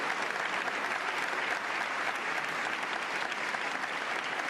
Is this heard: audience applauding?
yes